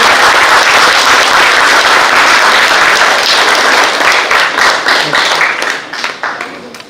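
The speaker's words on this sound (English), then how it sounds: "Please give a big round of applause." Audience applause at a formal operating committee meeting session, a dense steady wash of many hands clapping that thins and tapers off toward the end.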